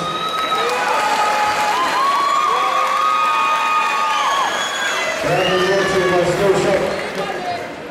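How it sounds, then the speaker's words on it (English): A crowd at a charity boxing fight night cheers, whoops and applauds loudly and continuously after the bout, with shouts rising over the roar. "Give another round of applause."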